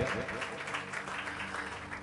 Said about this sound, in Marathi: पुन्हा एकदा जोरदार टाळ्या प्रभूच्या गौरवासाठी मी वाजूया